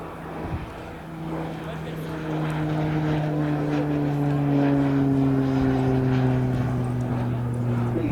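A Pilatus PC-9 propeller trainer at an air show flies past loud and close, its engine drone sliding downward in pitch as it goes by, with an announcer talking over it.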